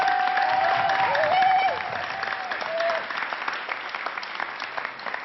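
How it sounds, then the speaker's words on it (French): Audience applause for comedian Jamel Debbouze on a French TV set, a dense, steady wash of clapping that fills the whole clip, slightly louder at first and then settling, with faint crowd voices beneath. "On l'applaudit encore."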